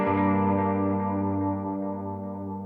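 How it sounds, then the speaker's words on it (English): Ambient electric guitar played through delay and reverb pedals with wow and flutter modulation: one sustained, shimmering chord that hangs and slowly decays into a wash, steady and fairly loud with no voices. "If I turn up the wow and the flutter, or modulation on a lot of, you know, delay pedals and reverb pedals have modulation controls"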